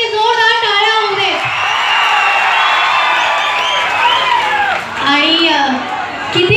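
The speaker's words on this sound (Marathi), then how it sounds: "हे महत्त्व तुमच्या सगळ्यांसाठी जोरदार टाळ्या होऊ दे." At a stage show in Parli, an audience claps and cheers under a loud amplified voice, with the crowd noise swelling as a continuous wash behind the speech.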